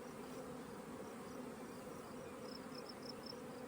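A steady, dense buzzing of many honeybees at a hive, continuous and close, with no voices.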